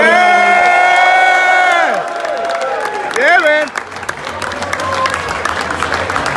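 A crowd at a 2018 NJ/NY fan expo cheers and applauds loudly for a performer with whoops and shouts, following a sustained musical tone; a voice calls out briefly over the noise.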